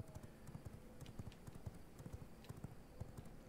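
Horse hooves clip-clop in a video game, a quiet, steady run of rhythmic hollow clops repeating evenly throughout.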